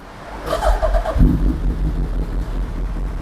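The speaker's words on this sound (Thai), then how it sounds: "เดี๋ยวลองฟังเสียงเครื่องยนต์กันดูนะครับ" A 2014 Suzuki Hayabusa 1300 ABS motorcycle with Vance & Hines dual exhaust cranks briefly with a whirring starter, then catches with a low thump and settles into a steady, rumbling idle close by.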